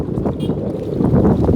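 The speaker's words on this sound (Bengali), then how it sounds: "বাতাসের খুব প্রভাব।" Strong wind gusts buffet the microphone on an open lakeside road at Halti Beel, Patul, a loud continuous low rumble with no talking.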